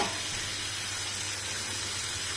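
Vegetable stalks sizzle in hot oil in a pan, a steady close hiss that holds evenly throughout with no talking.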